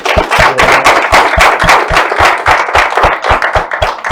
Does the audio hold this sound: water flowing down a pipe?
no